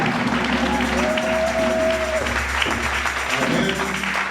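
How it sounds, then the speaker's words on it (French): A church congregation acclaims with applause during a sermon, a steady crowd of clapping hands that continues throughout, mixed with voices calling out over it. "Acclamons le Seigneur pour eux."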